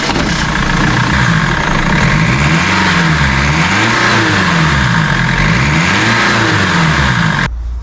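BMW E46 320d diesel engine, fresh from a boost leak repair, running close and loud, its note swelling and falling in several smooth revs over a clattering idle before cutting off at the end.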